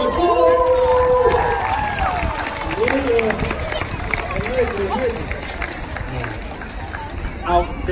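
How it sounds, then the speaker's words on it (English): An audience breaks into applause and cheers after a Fijian group performance by a girls' school at Polyfest 2019, loud at first and then easing, with a host's voice over the crowd and a few children's voices mixed in. "Massive round of applause."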